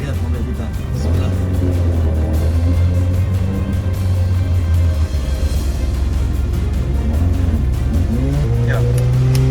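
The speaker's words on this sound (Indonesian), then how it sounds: "Tuh lihat mobil ini sampai berkali-kali maju mundur." Off-road car grinding back and forth through deep mud on a steep, slippery, rocky track, its engine roaring loud and close with steady revving and shifting pitch that never lets up.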